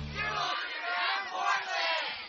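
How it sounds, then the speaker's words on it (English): An excitable studio crowd cheers and yells continuously, a dense roar of many voices with whoops swelling and dipping, close and loud throughout. "So a rather excitable crowd, buddy."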